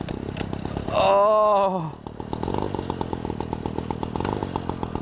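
A small petrol engine built into a bicycle is pull-started. There is a brief rising whine from the pull cord, then the engine catches and settles into a fast, buzzing idle close by, with a short exclamation over it.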